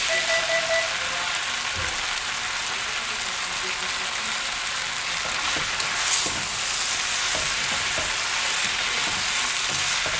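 Vegetable lo mein sizzles and fries in a pan with hoisin sauce, a steady dense crackle held for the whole stretch with occasional stirring scrapes, close and fairly loud.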